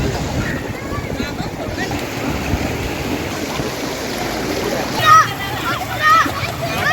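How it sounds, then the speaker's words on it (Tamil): Children and young people splashing as they swim and play in floodwater running like a river down a road in Puducherry, with a steady wash of moving water, bursts of splashing and faint voices throughout. "அந்த நீரில் குழந்தைகள், இளைஞர்கள் நீந்தி விளையாடுகின்றனர்."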